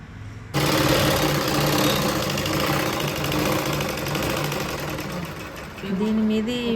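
A sewing machine stitches a pure handloom silk saree, starting abruptly and then running steadily with a loud whirring hum. Near the end the motor pitch shifts as it slows.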